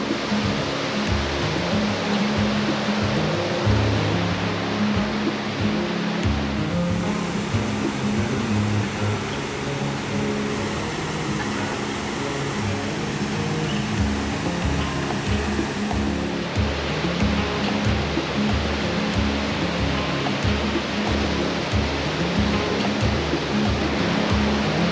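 Water rushes and roars steadily from a waterfall and river in Pisgah National Forest, North Carolina. The loud, constant wash continues without a break.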